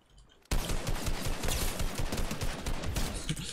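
Rapid automatic gunfire in the Fortnite video game with the shots missing: a loud, sustained burst that begins abruptly after a brief quiet moment and rattles on without pause.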